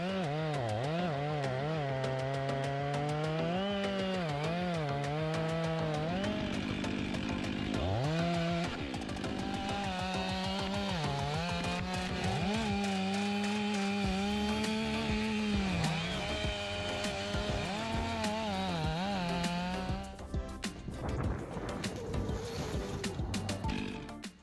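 A large MIS 500E chainsaw fells a giant tree, its engine loud and close, rising and falling in pitch as it bites through the wood for over twenty seconds, with no talking.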